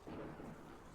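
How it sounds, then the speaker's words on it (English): Thunderstorm in the survival game HumanitZ, a low, dense rumble of thunder with rain and wind filling the whole second, steady and fairly loud with no voices. "Ooh, it's storming."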